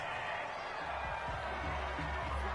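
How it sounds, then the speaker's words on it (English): A home stadium crowd in the football video game Madden 21 reacts with a sustained crowd roar and scattered cheering, while a commentator talks over it. "This home crowd, they're happy with that call."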